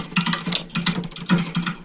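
Rapid typing on a computer keyboard at a desk during an online poker session, a steady patter of close, crisp key clicks with brief uneven gaps.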